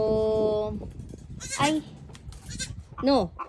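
Goats on a farm, including a newly kidded nanny and her young, bleat in several wavering calls, with a sustained tone at the start and two sharp bleats later, near and fairly loud against quiet background.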